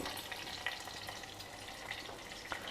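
Mustard seeds, urad dal and chopped green chilies hit hot oil in a pan and sizzle with a steady close crackle, broken by a few faint sharper pops.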